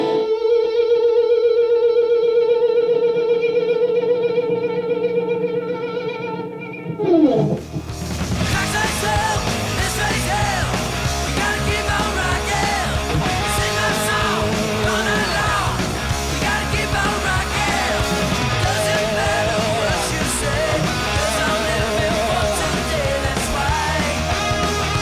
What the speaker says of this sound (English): if you don't know what vibrato is, it's something that sounds like this.